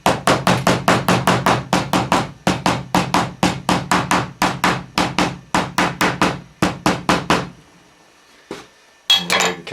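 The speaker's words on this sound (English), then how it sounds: "Just tap those in, make them secure with a hammer." Hammer taps strands into place, a steady run of sharp, ringing metallic blows repeating about three per second, loud and close, then stopping with a few scattered knocks and clinks afterward.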